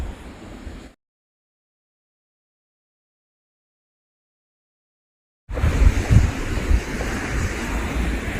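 Choppy sea waves churn under strong wind buffeting the microphone, a short stretch at the start, then dead silence for several seconds before the loud, rough wind and surf return.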